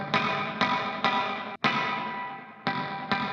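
An electric guitar runs through a dark-sounding reverb pedal, with a series of strummed chords, each ringing out and decaying in a long wash of reverb, with brief gaps between the hits.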